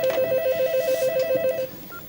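A telephone rings with a rapid trilling electronic bell, several quick pulses in a loud burst close by, then cuts off into a quiet room.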